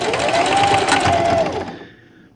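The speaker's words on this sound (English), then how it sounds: "and then just keep sewing" A sewing machine runs at speed stitching a quarter-inch seam on fabric for reusable Easter eggs, a loud close steady whir and clatter lasting well over a second before winding down and stopping.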